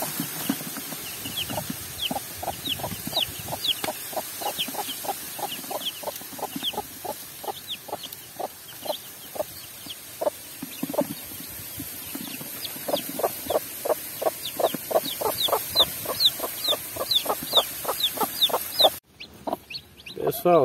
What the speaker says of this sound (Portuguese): os pintinhos aí no chiqueirinho aí, ó